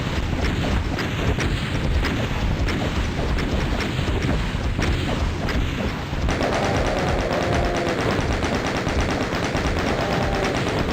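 Rapid, continuous video-game gunfire pours at the Cyberdemon, a dense, loud stream of shots that shifts in tone partway through and is mixed with rushing noise.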